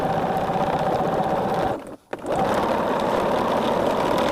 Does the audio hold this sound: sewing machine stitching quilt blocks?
yes